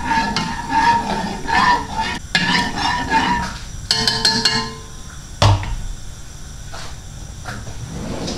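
Tomato ketchup is mixed into a barbecue sauce for Texas-style ribs, close, wet scraping and stirring with a couple of clinks and knocks against the pot, with no talking.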